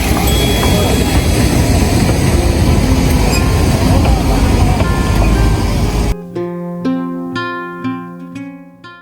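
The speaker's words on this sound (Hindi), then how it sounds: "फिर एक टॉय ट्रेन कहीं आता है, जो कि पूरे दिन की आखिरी टॉय ट्रेन थी जो स्टेशन पर आने वाली थी" The Darjeeling toy train pulls into the station with a loud, dense rumble of wheels and engine, then gives way to several sharp, ringing horn or whistle blasts that fade toward the end.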